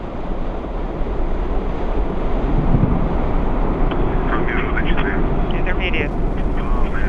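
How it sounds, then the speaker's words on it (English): Soyuz 27 rocket engines roar at liftoff, a loud, steady broadband rumble that stays dense and continuous throughout, with wind buffeting and a launch commentator talking over it. "And liftoff of the Soyuz 27 rocket and spacecraft"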